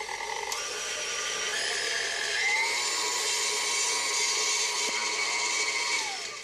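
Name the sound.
electric mixer beating cake batter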